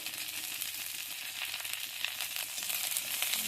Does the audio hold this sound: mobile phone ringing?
no